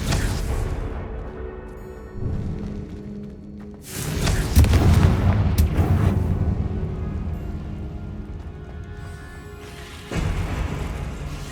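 In the Hogwarts Legacy video game, a Confringo blasting spell fires and erupts in deep booming explosions, a strong blast at the middle followed by a fading rumble, and another burst near the end, with no talking.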